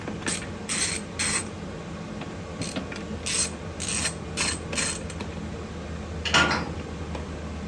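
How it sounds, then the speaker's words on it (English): Bursts of rapid ratchet clicking, with metallic rattles between them, from a wrench backing T27 Torx bolts out of a motorcycle license plate bracket, heard up close over steady background hum. "Take off the bolts."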